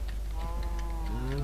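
Minecraft cows give a drawn-out low moo, a single close bovine call lasting about a second over a constant low hum, with faint game sounds around it.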